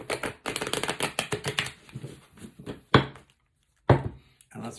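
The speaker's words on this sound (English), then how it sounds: "It shuffles like a dream if you like to rifle them." A deck of playing cards is riffle shuffled, a quick run of crisp fluttering clicks followed by a couple of sharp snaps, close and fairly quiet.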